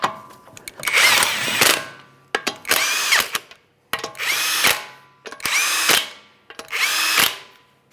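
A power tool drives the wheel lug nuts on a 2009-2014 Nissan Maxima in five loud, close whirring bursts, each spinning up and stopping abruptly with clicks between, no talking.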